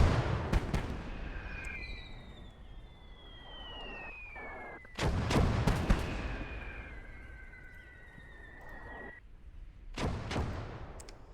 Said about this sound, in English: My god, mortars are shite.